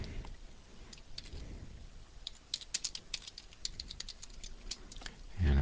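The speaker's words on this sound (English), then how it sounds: "And so I'm going to type apostrophe." Someone types on a computer keyboard in a quiet room, tapping keys in uneven bursts of quick clicks, close by and fairly soft, with a brief louder thump at the end.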